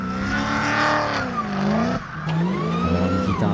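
Drift car at Val de Vienne in the Drift France round launching hard, the engine revving high and rising and falling in pitch under tire squeal, loud and close.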